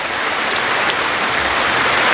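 Heavy rain pours down steadily on a large bamboo greenhouse, a dense, unbroken hiss that stays loud and even throughout, with no voices.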